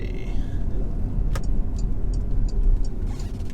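A 2019 Porsche Macan S engine revs hard in third gear, a steady loud drone with road rumble heard from inside the cabin.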